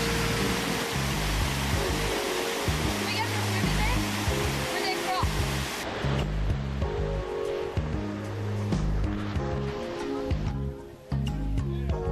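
The steady roar of the waterfall at Indian Falls on Cape York fills the scene, loud and continuous, with a musical soundtrack playing over it.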